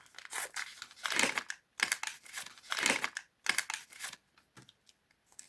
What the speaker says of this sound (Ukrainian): давайте відкривати ось такий ось пакетик